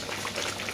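Spice paste for a mackerel botok frying in oil in a pan, giving a steady, even sizzle and bubbling hiss throughout a brief moment, with no voices.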